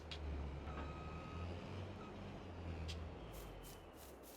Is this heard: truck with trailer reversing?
yes